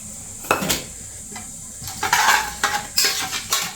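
Onion and coriander stems frying with cumin in a pan give a steady sizzle, broken by several sharp scrapes and clinks of a spoon against metal as they are stirred.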